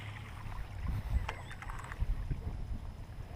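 A 23-inch radio-controlled mono-hull boat's motor hums steadily over rippling water. The drone stays constant and moderately distant, with no voices.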